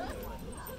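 A dog whimpers and yips in short, high-pitched bursts, close by, with some background voices and outdoor ambience at a flag-raising gathering.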